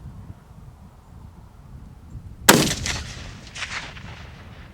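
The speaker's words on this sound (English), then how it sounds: "First shot on the range." A single gunshot on an outdoor shooting range cracks sharply after quiet wind noise, followed by a brief rolling echo that fades out.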